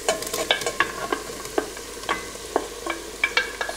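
Boiled potato slices tossed with paprika in a frying pan, with a spatula scraping and stirring in short repeated strokes over a soft background sizzle, close and fairly quiet.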